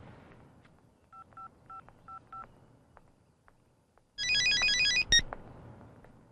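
A telephone is dialed: four evenly spaced pairs of short keypad tones beep quietly over a faint room hum. After a pause, a louder burst of rapid electronic ringing follows, with no one talking.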